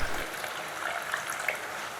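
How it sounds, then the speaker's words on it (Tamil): Water pouring into a pan of Tamil-style egg gravy, a soft continuous splash and trickle heard close, with a slightly louder gush at the very start and no talking. "கொஞ்சமாக தண்ணி சேர்த்து கிரேவியை நல்லா கொதிக்க விடுவோம்."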